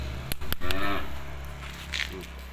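A Simmental cow moos loudly and close by, a single drawn-out low call, with a few sharp knocks at the start and faint background noise.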